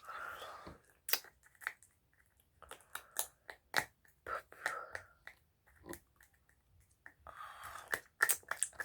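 Hard rock candy being chewed up close, a series of sharp crunches and bites in irregular bursts, with brief gaps of quiet in between.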